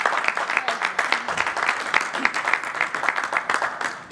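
Wedding guests applauding and cheering in a church-style ceremony in Paris, a steady wash of dense clapping with crisp individual claps, continuous and fairly loud throughout.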